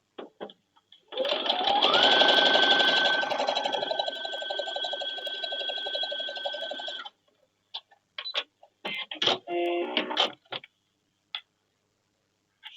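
A sewing machine stitches quilt pieces for a baby quilt in one steady, close run of fast mechanical rattling lasting several seconds, followed by scattered clicks and short bursts of handling noise.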